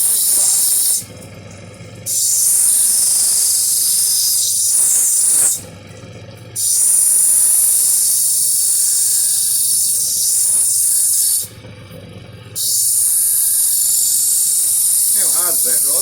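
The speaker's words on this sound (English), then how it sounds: "So we grind each of the corners off this part." A grinding wheel shaves the corners off a chrysoprase quartz stone, giving a loud, steady high hiss in three long passes with brief quiet gaps between them.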